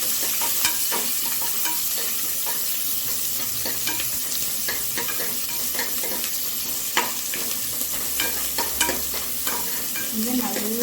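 Chopped onions and green chillies sizzle steadily in a pan for road-side spicy salna, with a ground paste of tomato, cinnamon, fennel and cloves to follow, while frequent stirring scrapes and clinks sound close and loud throughout.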